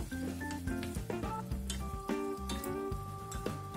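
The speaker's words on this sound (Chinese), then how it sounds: "我们再跌上几碟老抽，让它有蒜苗烧肉的感觉" Garlic shoots and pork stir-fry in a wok with dark soy sauce, giving a continuous crackling sizzle with scattered small clinks from stirring, fairly quiet and without voices.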